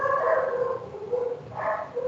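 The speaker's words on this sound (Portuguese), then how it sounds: "Olha, cachorro." A dog gives a couple of short, muffled barks or yips nearby during a podcast recording, with a steady background murmur underneath.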